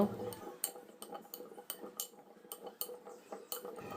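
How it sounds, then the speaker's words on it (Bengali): A spoon scrapes and clinks steadily against a mixing bowl while sweet corn is tossed with lemon juice, the clinks coming in a regular stirring rhythm at close range and moderate volume. "লেবুর রসটা দিয়ে ভালো করে এটাকে মিশিয়ে নেব"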